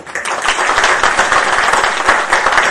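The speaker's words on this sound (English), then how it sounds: "let us give a big hand, a round of applause to the government" Audience at a BSNL event applauds the government, a steady, dense wash of clapping that holds at even loudness for the whole stretch, with no voices over it.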